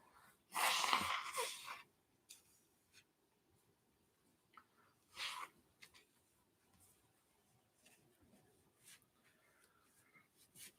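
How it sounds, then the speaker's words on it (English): A single loud sneeze bursts out near the start, followed by quiet with a few faint small noises and breaths. "I feel like I'm going to sneeze."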